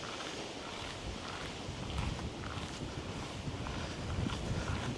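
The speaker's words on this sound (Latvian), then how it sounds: "Vakarā norims vējš." Wind gusts by the Lielupe river at night during a fishing trip, producing a steady, full rushing roar of noise buffeting the microphone, with no talking.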